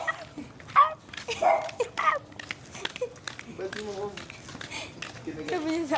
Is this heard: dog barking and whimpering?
yes